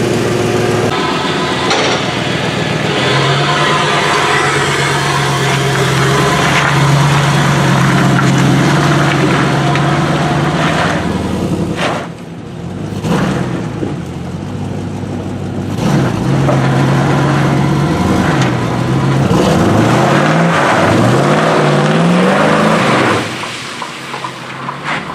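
A Toyota Tacoma pickup truck engine runs steadily for about twenty seconds, its pitch rising and falling as it revs and pulls away, fairly close and loud throughout.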